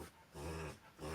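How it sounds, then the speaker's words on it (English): A dog growling low and whimpering in short pulses, two swelling growls with a softer dip between, fairly quiet and close. "that's my dog."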